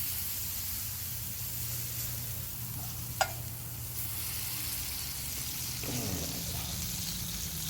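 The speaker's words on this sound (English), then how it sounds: "Let me get some butter melting in here." Butter melting in a cast iron pan for grilled cheese makes a steady, close hissing sizzle throughout, with one sharp clink partway in.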